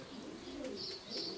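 Pigeons coo softly at a racing loft, low murmuring calls repeating over a faint background hum, with a few higher chirps near the end.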